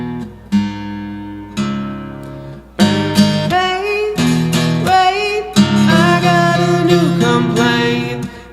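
Guitar chords ring out in a series of sharp, loud strums, each attack followed by sustained ringing notes, growing denser toward the end with no talking.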